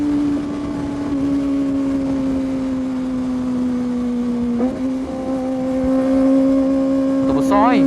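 A large motorcycle passes on the road, heard from a Kawasaki ZX25R: a steady, loud engine drone with a shifting pitch and a rising rev near the end, with voices talking over it.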